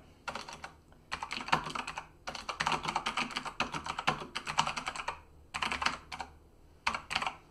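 Rapid typing on a computer keyboard, close and clear, comes in bursts of quick key clicks separated by brief pauses, with no voices.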